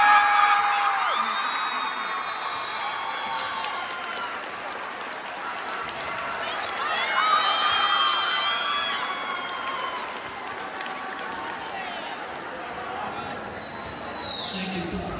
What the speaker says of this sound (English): One more round of applause for Mr. Dempsey.